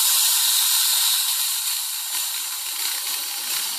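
A Ponte Vecchio Lusso espresso machine's steam wand vents steam in a loud, steady, close hiss that eases slightly as the boiler pressure drops.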